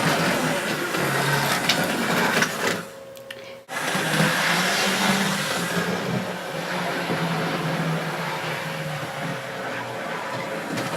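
Steady whirring hum of a model train running at full speed around a layout, close and continuous with a brief dip partway through, then carrying on evenly.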